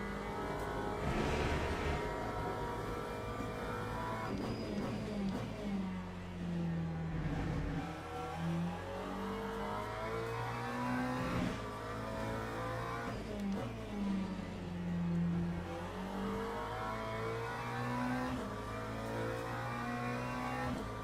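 A McLaren 720S racing in Le Mans Ultimate, its engine droning and rising and falling through revs and gear changes at moderate level, steady throughout without talk.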